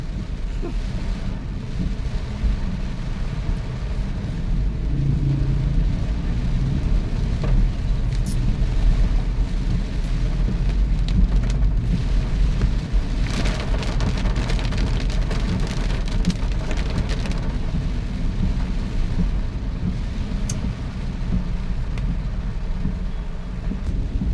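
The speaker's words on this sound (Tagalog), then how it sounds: "naabutan tayo ng ulan na malakas na naman ulit no" Heavy typhoon rain pours down steadily throughout, a dense continuous hiss with occasional louder patters and a low rumble underneath.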